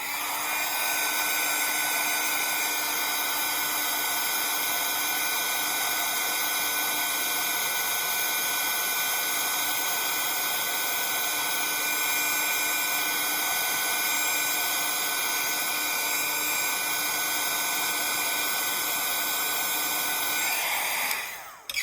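A hair dryer blows steadily on a watercolor painting, a loud, even, close whir that holds for about twenty seconds and then cuts off at the end, with no talk.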